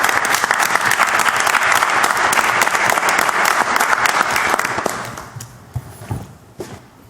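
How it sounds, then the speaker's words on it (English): Audience at a borough council meeting in Madison, New Jersey gives a sustained round of applause for veterans, dense clapping from a room-sized crowd that fades out over the last two seconds into a few scattered claps. "if you all give a round of applause for all our veterans out there"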